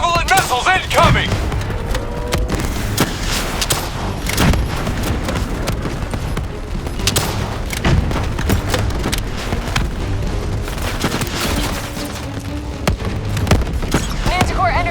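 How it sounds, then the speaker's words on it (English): Heavy combat in the video game Call of Duty: Black Ops 3 as Javelin missiles strike, with repeated loud booming blasts and crackling gunfire throughout, dense and continuous with several sharp impacts. "Javelins inbound! Javelin missiles incoming!"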